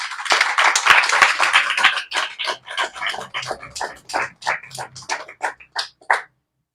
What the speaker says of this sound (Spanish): ¿Cuántos le pueden dar un aplauso al Señor Jesucristo?